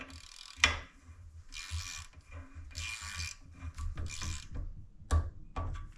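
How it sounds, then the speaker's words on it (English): A ratchet repaired with JB Weld loosening a bolt, heard up close as a series of separate clicking ratchet strokes with sharp knocks in between, no voices. "can the regular JB Weld ratchet break this thing loose?"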